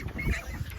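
A single short duck call, close and fairly loud, sounds amid a chicken yard where girls chase ducks, with rough outdoor background noise around it.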